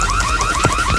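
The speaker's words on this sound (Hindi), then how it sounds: "ये क्या? अलार्म क्यों बज रहा है?" An electronic alarm rings in a continuous warbling, repeating pattern, loud and close, with no voices over it.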